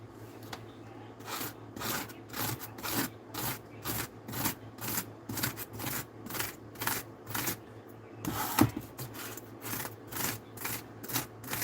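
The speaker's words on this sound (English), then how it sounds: "What I'm gonna do first is scrape some of this off, the corners off." Scraping the corners off part of a wooden model train layout: a steady series of short rasping strokes, close and fairly loud, repeating in a regular rhythm over a low background hum.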